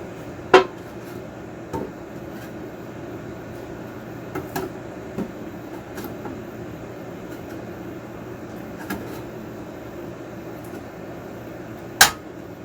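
A screwdriver pries open a leftover paint can, with a few sharp metallic clicks and pops spread across a quiet room hum, the loudest snaps near the start and end.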